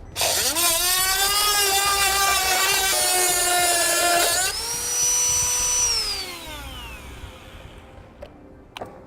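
A high-pitched rotary power tool whines loudly while trimming a plastic bumper fascia on a 2018 Hyundai Ioniq to clear a Curt trailer hitch, its pitch rising and falling with load before spinning down to quiet near the end.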